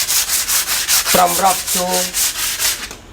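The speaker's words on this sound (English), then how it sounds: "we're going to clean it with sandpaper from rough" Sandpaper scrubs back and forth over a surface in steady rhythmic strokes, loud and close, while a voice speaks briefly over the rasping.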